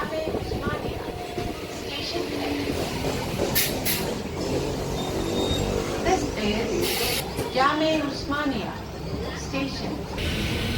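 An MMTS local train pulls out of Osmania railway station with a steady low rumble of wheels and carriage noise, brief high squeals and a rhythmic clatter over rail joints, heard from inside with people talking throughout.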